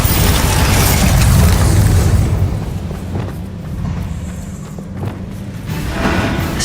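A Bombarda blast spell in Hogwarts Legacy lands as a loud, low booming explosion, its rumble swelling over the first two seconds and then settling into quieter rumbling game sounds, with no talking.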